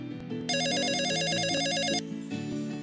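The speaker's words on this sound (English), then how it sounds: "Oh, the phone's ringing." An electronic telephone ringtone chimes in the video game Song of Memories, a bright warbling ring lasting about a second and a half over soft background music, clear and alone.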